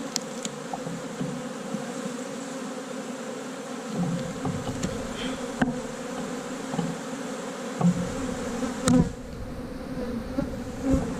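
Honey bees swarm around a large, crowded hive frame during a January hive inspection in South Carolina, giving a dense, continuous buzzing drone with occasional louder passes close by and faint handling clicks.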